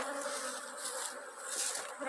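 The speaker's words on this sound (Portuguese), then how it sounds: "Vamos ver, galera, se a abelha tá pegando o açúcar VHP." Honeybees swarming over VHP sugar feed in an apiary, a continuous loud buzz of many wings close by, pulsing slightly as individual bees pass near.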